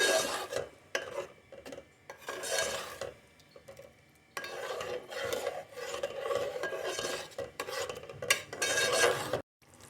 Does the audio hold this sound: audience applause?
no